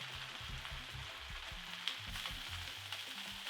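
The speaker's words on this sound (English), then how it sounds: "we'll continue cooking these mushrooms until they are nicely softened" Mushrooms and beef frying in a pan with oil, a soft steady sizzle with faint crackles and occasional stirring knocks, close and moderately quiet.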